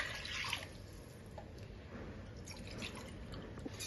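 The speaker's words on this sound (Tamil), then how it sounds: "அதுக்கு தக்குன்னு தண்ணி ஊற்றிட போறேன்" Water is poured into a pot of jeeraga samba rice, a soft, continuous splashing and trickling that stays fairly faint throughout.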